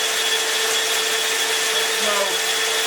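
A reamer cutting a hole in metal on a machine produces a steady, dense grinding whir throughout, loud and continuous with a faint shifting tone near the end.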